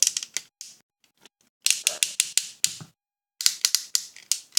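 The ratcheting joints of a Transformers Predaking toy click sharply in quick bursts of several snaps, separated by brief pauses, close and alone without speech.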